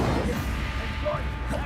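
Incendio fire spell cast in the Hogwarts Legacy video game: a brief, loud, crackling burst with a crashing impact amid battle noise.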